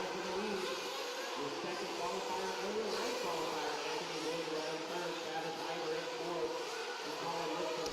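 Nitro RC race cars scream around a dirt track in a steady, high-pitched engine whine that rises and falls as they lap, with a race announcer talking over the noise throughout.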